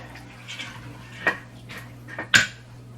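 Drained beans being stirred in an Instant Pot while making baked beans, with a spoon scraping and clinking against the pot in a few sharp knocks over a low background hum.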